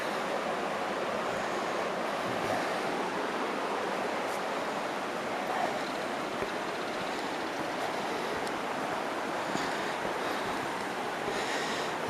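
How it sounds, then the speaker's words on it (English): A river rushes in steady broadband flow beside slick rocks on a rainy day, a constant close wash of water with no pauses and no voices. "There's the river."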